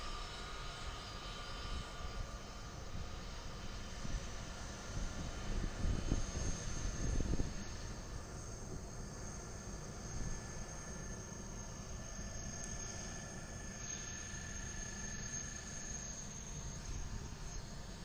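A Malaysia Airlines airliner at Adelaide Airport gives a steady, fairly distant engine roar that holds throughout, swelling slightly midway, with no one talking.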